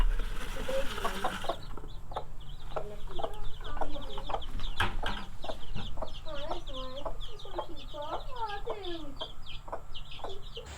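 A flock of big chickens clucks and squawks up close in a series of busy, overlapping calls, with a constant low hum of barn background underneath and brief noise at the start.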